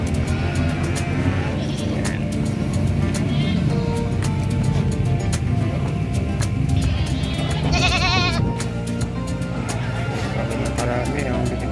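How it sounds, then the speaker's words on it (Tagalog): Goats bleat at the Malasiqui Livestock Market, a few calls rising above steady crowd chatter and background vehicle noise, with people talking throughout. "Marami ang binibentang kambing."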